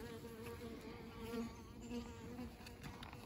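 Several honeybees buzz steadily around hive honey supers, a continuous droning hum with slight swells as they fly around, no voices.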